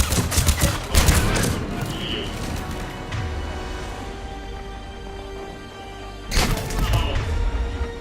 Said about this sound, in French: Ennemi toujours là. Il nous tire dessus.